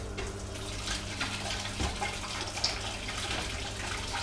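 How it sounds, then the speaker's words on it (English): Water runs briskly down a plantless DIY hydroponic garden tower, giving a steady trickling, splashing rush with small drips throughout and no voices. "the water does run quite aggressively down"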